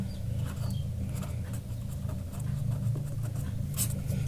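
Pen scratching on paper while working a maths problem in a lesson, a steady run of soft scratchy strokes close up throughout with no talk.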